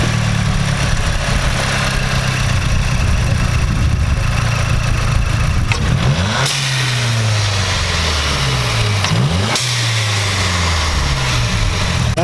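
Mazdaspeed 6 turbo engine fitted with an aftermarket intake and blow-off valve idles steadily, then revs up twice with a rising engine note that falls back after each throttle blip, heard up close with no one talking.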